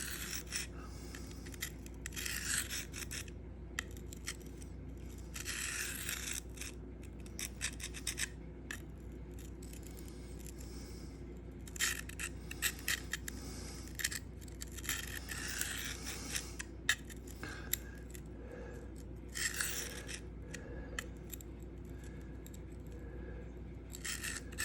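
An S110V steel Spyderco knife blade being drawn across a Sharpal field sharpener in repeated short rasping strokes, separated by brief pauses, close and fairly quiet with no talking.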